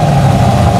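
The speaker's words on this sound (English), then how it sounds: "Listen to that exhaust. Give it some gas, Mikey." Loud, deep engine rumble from a 2010 Chevrolet Camaro 2SS with aftermarket cam work, a brief steady exhaust drone heard close up and alone.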